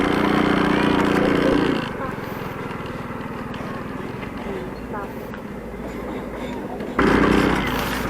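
Heavy machinery rumbles and drones at a road construction site on a scenic coastal road from Sagnay to Tiwi, a loud continuous engine noise that swells at the start and end, with a steadier mechanical hum between.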